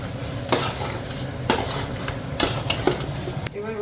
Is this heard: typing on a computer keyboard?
no